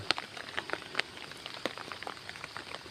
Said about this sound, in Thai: ฝนตกมาอีก